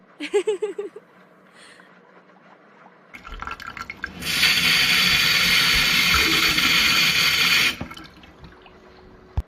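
Bath water runs from a tap into a bathtub, a loud steady rushing pour that starts after some faint knocks, holds for several seconds, then cuts off abruptly, leaving a quiet room.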